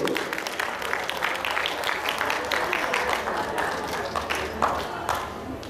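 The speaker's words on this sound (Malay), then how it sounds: "mari kita sambut beliau dengan tepukan yang gemuruh" An audience at an Aceh-Malay oral tradition event welcomes a speaker with applause, a steady, fairly lively clatter of many hands with faint talk underneath.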